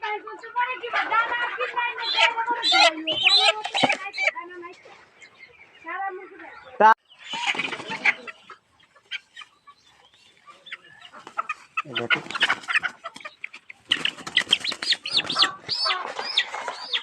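Chickens cluck and squawk in bursts close by, with flurries of wing flapping between calls and people talking over them.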